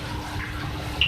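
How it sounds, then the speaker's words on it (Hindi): Water pours into a pot of mash dal with a short, steady, close rushing splash. "मैं इसमें ऐड करूँगी पानी"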